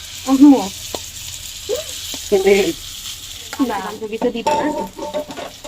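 Leftover cooking oil sizzles and crackles in a pan as food is fried and stirred, a steady close sizzle broken by short voiced sounds.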